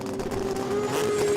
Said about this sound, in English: Big skid, big skid.